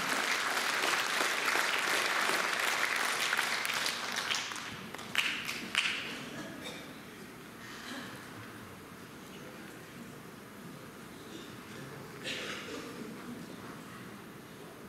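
Audience applause after a song at an author's song concert in a naval officers' house, steady clapping that thins out into scattered claps and soft crowd noise, with a few last isolated claps.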